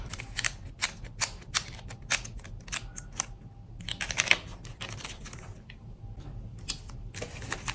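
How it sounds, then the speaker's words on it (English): Scissors trimming planner paper for a mini discbound planner, with a run of close, sharp snipping clicks, a pause, then a few more cuts and light paper handling. "I am going to trim that down a little bit so it's not sticking out."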